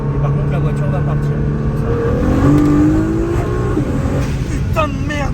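After a short charge, a car's engine revs hard and the car pulls away, a loud, rising mid-pitched drone with shifting tones, close up and sustained.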